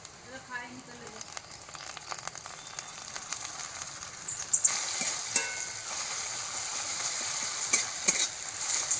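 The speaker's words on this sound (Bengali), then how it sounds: "পেঁয়াজ রসুন ভাজা হয়ে গেছে" Onion and garlic fry in a pan with a soft sizzle that grows louder midway, punctuated by stirring clatters; a voice speaks briefly at the start.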